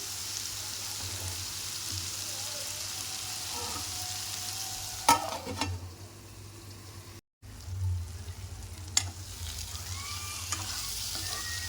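Gongura chicken simmers in a covered pan, giving a soft, steady bubbling sizzle with a low hum, a few faint clinks, and a brief dropout partway through.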